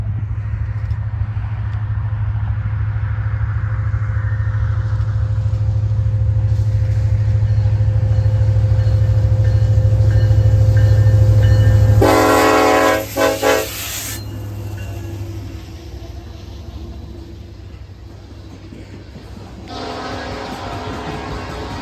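A loaded K-Line coal train bound for a power plant rumbles past steadily with an SD70 Ace locomotive in the lead, a loud sustained drone giving way to a sharp bright horn blast, then continuing rolling rumble and a second horn sound.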